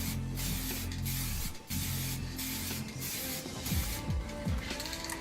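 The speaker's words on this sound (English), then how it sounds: "full pushes, full long sprays to make sure we get as much paint out of that spray can as we can" A spray can hisses out paint onto a wheel in long, loud, close bursts in freezing cold, with brief gaps between pushes and a low motor hum underneath.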